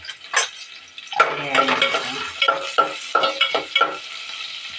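Oil and sesame oil sizzling in a pan for brinjal curry, with stirring and clinks of a utensil against the pot; bursts of close frying noise and scraping come in an irregular rhythm, without talk.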